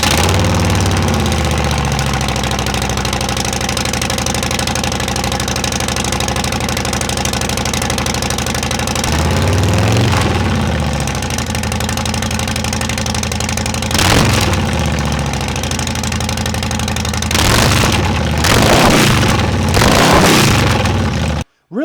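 A Harley-Davidson Breakout motorcycle engine idles with a loud, steady low rumble, with a few throttle blips and revs toward the end before cutting off abruptly.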